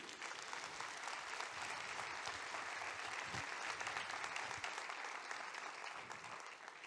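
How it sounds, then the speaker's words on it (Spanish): A church congregation applauds in a steady, dense wash of clapping that stays even and somewhat distant, with no voices on top. "Dele fuerte ese aplauso a Él."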